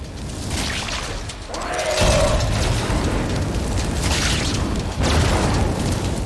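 A deep, rumbling explosion in the Warframe game with falling debris, a loud sustained boom swelling in at about two seconds and another surge near five seconds over continuous roaring noise.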